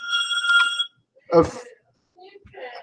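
A telephone rings with a bright, steady electronic trill for just under a second, followed by short bursts of nearby talk.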